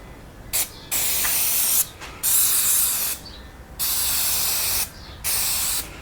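Several bursts of spray hiss onto MGA seat upholstery, each lasting about a second, separated by short pauses, close and loud.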